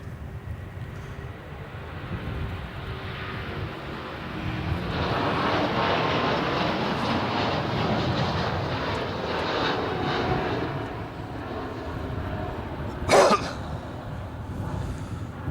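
An Airbus A350 airliner landing at Melbourne Airport, a broad steady engine roar heard from a distance that swells in the middle and slowly fades, with a short sharp knock near the end.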